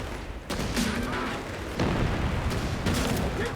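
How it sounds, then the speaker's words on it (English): Anti-tank rifle fire striking tank armour in Company of Heroes 3, heard as a few heavy, booming gunfire bursts with dense rumbling battle noise between them, loud and continuous with no talk over it. "these guys have anti-tank rifles. Oh, chipping away at my armour"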